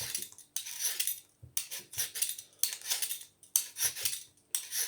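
A metal peeler scrapes the skin off a potato as it is twisted around for a frittata, giving a series of sharp scratchy strokes in bursts with short pauses, close and clear, without talk.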